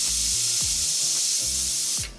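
A pressure cooker loaded with chickpeas venting steam, a loud continuous close hiss with low rhythmic pulses beneath it, cutting off abruptly at the end.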